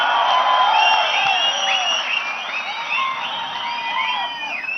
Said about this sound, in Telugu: చేతులు చప్పట్లు కొట్టి గట్టిగా దీన్ని నిరసన తెలియజేయండి